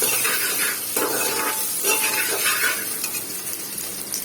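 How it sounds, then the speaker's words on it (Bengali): Onions frying with salt in a pan crackle with a continuous close hiss and sizzle, and a spoon periodically stirs and scrapes through them, with no talking. "এই সময় লবণটা দিলে হয় কি, পেঁয়াজটা তাড়াতাড়ি ভাজা হয়, সেদ্ধ হয়"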